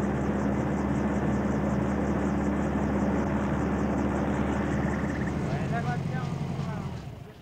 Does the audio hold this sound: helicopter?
yes